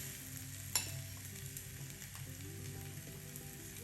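Chaffle batter cooking inside a closed, plugged-in waffle iron, giving a steady soft sizzle with a brief sharp click near the start and no talking.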